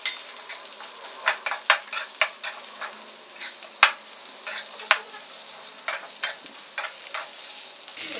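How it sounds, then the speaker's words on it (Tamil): Onions and green chillies fry in a little oil in a kadai, a steady sizzle broken by sharp, repeated scrapes and clinks of a spoon stirring at close range, with no talking. "கொஞ்சமாக எண்ணெய் ஊற்றிட்டு வெங்காயம் சேர்த்துக்கிறேன்"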